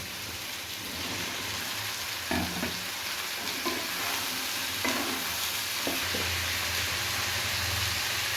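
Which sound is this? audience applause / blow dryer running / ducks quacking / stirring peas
stirring peas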